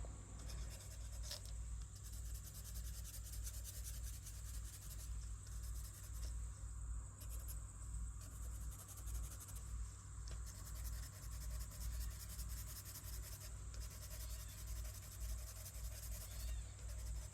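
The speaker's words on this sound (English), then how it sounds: "Let's add a little bit of shading with our pastel pencil." Pastel pencil shading on paper: a faint, continuous dry scratching and rubbing that lasts the full stretch, with no talking and a low steady hum underneath.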